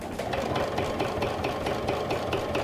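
A domestic sewing machine stitches through vinyl in a steady, continuous mechanical whir with a fast rhythmic needle beat, loud and close with no talking.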